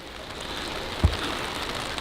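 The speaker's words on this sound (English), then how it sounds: "It's been pouring all morning." Steady rain falling outdoors during a morning downpour, a continuous even hiss of drops on surfaces with one brief louder thump near the middle and no voices.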